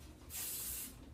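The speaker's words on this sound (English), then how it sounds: "I'm going to take some hairspray" Hairspray hisses from an aerosol can onto short hair during an up-do, one short steady burst of about half a second, close and clear, with no talking.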